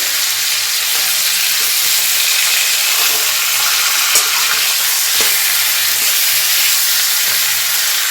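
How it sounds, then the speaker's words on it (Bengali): A fish head fries in hot oil with cabbage-dish spices, giving a loud, steady crackling hiss close by, broken by faint pops, with no talking. "ভেজে নেব মাছের মাথাটা"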